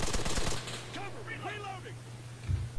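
Covering gunfire in the Arma III video game: a rapid burst of loud, close shots opens the moment, then voices take over with a low steady hum beneath them.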